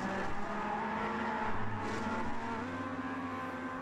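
A racing car engine in Trackmania Sunrise drones steadily at high revs, a close sustained whine with one slight pitch shift partway through.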